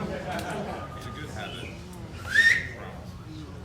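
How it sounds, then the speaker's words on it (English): A single short whistle from a person rises briefly over crowd chatter and background talk at a live pre-show event. "Hell yeah, I like the whistle."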